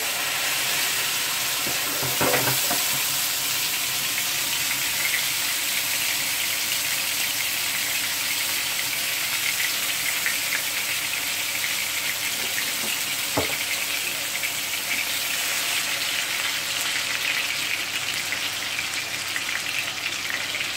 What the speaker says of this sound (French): je vais prendre ma galette et je vais me la mettre dans la poêle